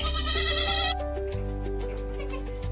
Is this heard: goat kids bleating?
yes